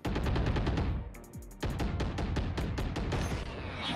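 Rapid bursts of gunfire from the video game Valorant, loud repeated sharp shots in quick strings with a brief lull in the middle, then continuing volleys with no talking.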